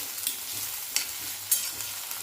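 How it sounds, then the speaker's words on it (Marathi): Onion frying in hot tempering oil, a soft steady sizzle close by with a few sharp spatter pops and light stirring clicks, no voices. "कांदा इथे छान भाजत आलेला आहे"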